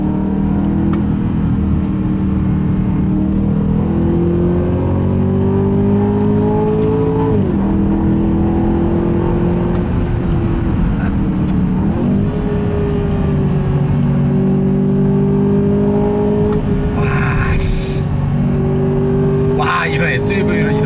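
Aston Martin DBX SUV in Sport Plus mode on a winding road, its engine droning loudly and steadily with rising and falling revs around gear changes, and a few sharp exhaust crackles near the end.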